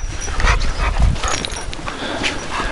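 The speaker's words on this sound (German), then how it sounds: "Jetzt schauen wir uns die Hunde an, wie sie es verarbeitet haben." Several dogs whimpering, yipping and giving short barks close by on a morning after New Year's fireworks, restless overlapping vocalizations over outdoor background noise.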